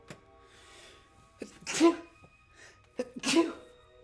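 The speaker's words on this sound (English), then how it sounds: "I sneezed." Two sneezes in quick succession, each with a sharp breathy intake then an explosive burst, close and fairly loud.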